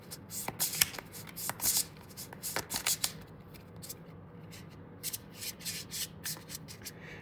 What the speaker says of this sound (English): then those get mixed together and get shuffled